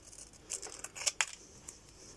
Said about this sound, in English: you could cut those off, your packaging. Cut them out